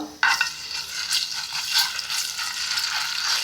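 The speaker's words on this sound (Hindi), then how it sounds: "अब घी में हम शामिल करेंगे लहसुन और अदरक" Ground garlic and ginger hit hot ghee for a moong dal tadka, bursting into a loud, steady sizzle with crackling spatter that carries on without pause.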